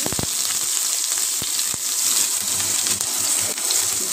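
Garlic frying in hot oil in a pan, a steady bright sizzle throughout with a few faint clicks and stirring taps, fairly close and with no talk.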